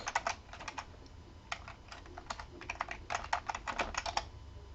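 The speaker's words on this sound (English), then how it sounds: "Hang on, let me type something else." Rapid, uneven bursts of key clicks from someone typing on a computer keyboard, close and clear with short pauses between runs of keystrokes.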